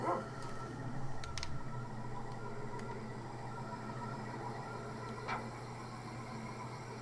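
Short, quiet yips from a dog in the video game Secret of Evermore, a few brief calls heard over a steady hum of game music and ambience.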